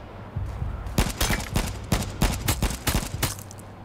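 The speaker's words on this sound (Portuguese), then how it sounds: "Eu tô tomando tiro sem ele aparecer" Gunfire in the online shooter H1Z1 comes as rapid, close bursts of shots in uneven volleys, fired repeatedly over a low background hum with no talking.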